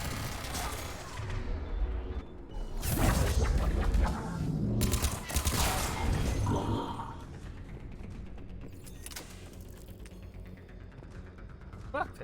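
Shotgun fire and chaotic combat in the video game Mass Effect 3, with loud, heavy bursts of gunfire and mechanical clatter that ease into lighter background battle noise over about twelve seconds.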